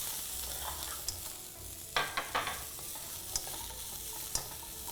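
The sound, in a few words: stir-frying broccoli in a hot wok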